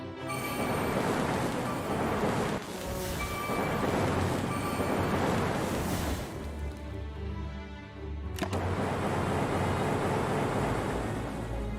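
Lightning from the Slay the Spire card game cracks and rumbles in loud, dense thunderous bursts, with a sharp crack near the end over a continuous roar.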